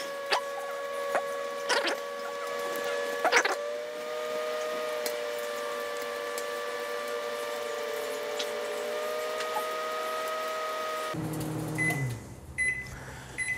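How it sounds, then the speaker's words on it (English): A microwave oven with fairly high wattage heats four slices of a sandwich for about a minute, a steady electric hum with a faint whine that runs alone and evenly, then stops with a few clicks and a short beep near the end. "our microwave, a little on the higher on the wattage side, but if we go 58 seconds for 4 slices, comes out nice and crisp"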